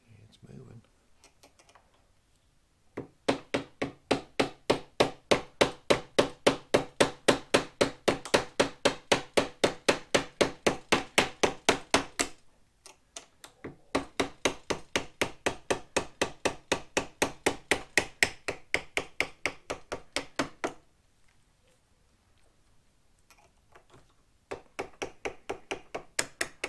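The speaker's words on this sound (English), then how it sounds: "Love using hammers around glass." A hammer strikes a Shelby Cobra replica windshield frame with fast, evenly spaced sharp taps in long bursts, broken by short pauses, loud and close.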